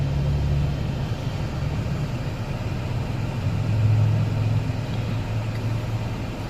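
Traffic rolls past an old broken-down Cadillac being towed by a tow truck: a continuous low engine rumble that swells briefly midway, moderately loud and alone.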